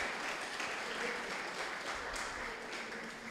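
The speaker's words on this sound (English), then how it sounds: "Let's give a round of applause for that." Audience applause fills a public lecture hall at a university event in Ghana, a steady, dense wash of clapping that holds evenly throughout without pause.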